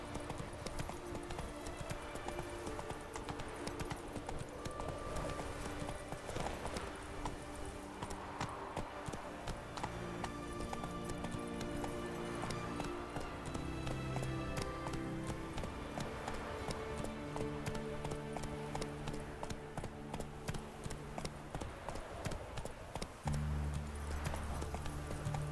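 In The Witcher 3, the horse Roach gallops with steady, rapid hoofbeats over a continuous bed of game music and ambience, and no one speaks.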